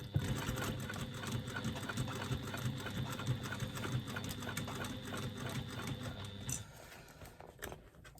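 A sewing machine runs steadily, stitching a clutch bag's lining across its side seams, with a continuous mechanical whir that stops near the end, followed by a few faint handling clicks.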